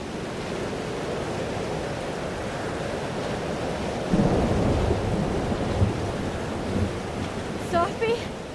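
A heavy thunderstorm rolls on in Life is Strange: Double Exposure, a dense wash of rain and low rumbling thunder that swells midway and keeps going, with a few faint tonal sounds near the end.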